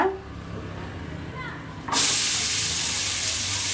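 Chopped onion drops into melted butter in a hot pan, and a sudden loud hissing sizzle bursts in partway through, then holds steady and close after a quieter stretch of background sound.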